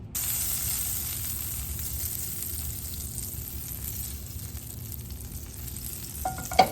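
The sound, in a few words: butter sizzling in a hot skillet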